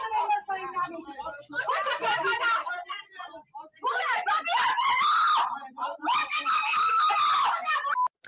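A woman screams and wails in long, loud, shrill bursts, several outcries in a row broken by brief pauses, during a confrontation with a cleric over a photo taken of her.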